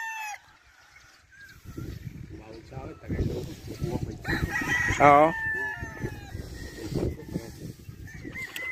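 Chickens clucking and a rooster crowing on a Philippine farm, close and busy, with people talking among the birds and a bright crow rising in the middle.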